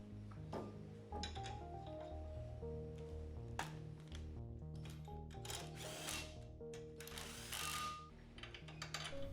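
A ratchet clicks and whirs close by as two lug nuts are run down onto a front brake rotor, in short bursts of mechanical ratcheting with some clanks between them and no talking.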